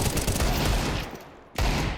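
Rapid pistol gunfire from Desert Eagles rattles through a Counter-Strike match on the Mirage map, dense overlapping shots with a brief lull before another loud burst.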